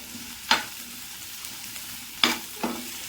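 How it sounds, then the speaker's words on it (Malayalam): Curry leaves and a small piece of ginger sauté in hot oil with a soft, low sizzle, punctuated by three sharp clinks of a steel spoon stirring against the pan. "കറിവേപ്പില, ഒരു ചെറിയ കഷ്ണം ഇഞ്ചി അതുകൂടി ഇട്ടിട്ട് നമുക്കൊന്ന് ഇത് വഴറ്റാം"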